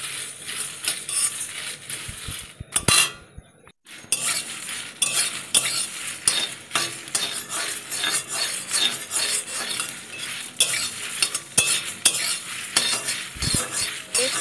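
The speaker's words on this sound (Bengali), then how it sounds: "মশলাটা একটু ভেজে নেব হালকা করে।" Spices and chilli frying lightly in a wok for amla pickle, a continuous soft sizzle broken by frequent metallic scrapes and clinks of a spatula against the pan, with a brief pause partway through.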